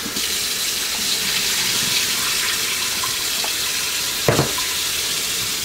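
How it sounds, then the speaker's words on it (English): Tap water runs steadily into a sink while rice is washed and rinsed before cooking gandules rice in coconut water, a continuous close splashing stream with a brief sharper splash near the end. "when you're washing and rinsing the rice"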